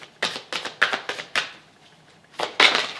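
Tarot cards being drawn and handled, a run of about eight crisp, close card slaps and snaps in quick uneven succession with a short pause near the end, no talking.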